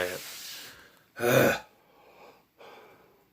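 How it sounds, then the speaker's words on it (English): A person yawns once, a long breathy exhale with a brief voiced peak, followed by a couple of softer trailing breaths, close and alone with no talk. "you're really sick of this yawning during my reviews"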